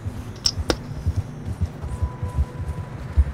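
Horse hooves clip-clop in the video game Red Dead Redemption 2 on a chilly outing, an irregular series of close hoof thuds at walking pace with a couple of faint clinks.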